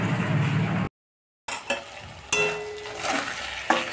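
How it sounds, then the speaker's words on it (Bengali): Sliced eggplant frying with onion in a pan gives a steady close sizzle, broken by a brief silent gap and then a few stirring scrapes and knocks. "আজ বেগুনগুলো এইভাবেই কেটে ভাজছি, পেঁয়াজ দিয়ে ভাজছি"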